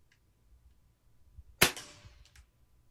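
A single sharp crack from a Gamo Bone Collector Gen 3 .22 break barrel air rifle, close and sudden, with a short ringing decay and faint clatter afterward against a quiet outdoor background.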